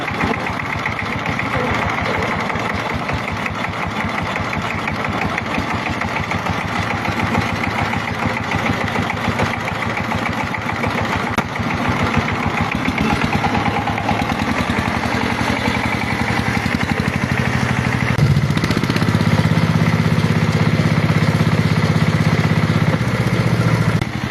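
A Sifang 195 model diesel engine runs steadily after servicing, with a loud continuous chugging drone that grows heavier and deeper toward the end, close by and with no voices over it.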